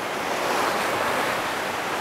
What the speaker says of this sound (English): Nice waves today